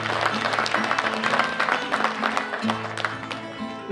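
Audience applause for António Azevedo at a cantoria, a traditional improvised singing event, with a continuous wash of clapping from a crowd, steady and moderately loud, with a hint of voices underneath.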